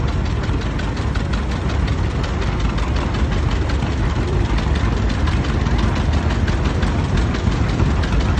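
Gasoline-powered John Deere G tractor engine running steadily, a loud, even, low chugging idle with a rapid regular firing pulse and no talk over it.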